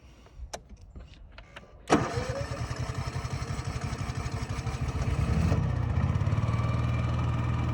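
An engine cranks after an oil change: a few clicks, then the starter whirs rapidly for several seconds before the engine catches and settles into a steady, loud idle.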